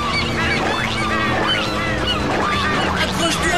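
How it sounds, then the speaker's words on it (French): A flock of wild seagulls appears with loud, overlapping honking cries that repeat in quick, steady bursts, close and continuous throughout. "un nuage de mouettes sauvages apparaît"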